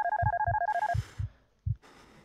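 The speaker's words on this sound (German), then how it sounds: "Telefon klingelt." An old-style telephone rings in the horror video game The Darkness Within, a warbling electronic trill repeating in a steady pattern for about a second alongside dull thumping beats, then fading into quiet ambience.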